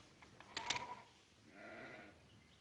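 A sheep bleats in a couple of short wavering cries, followed by a softer, longer bleat, faint and somewhat distant in an outdoor ranch setting.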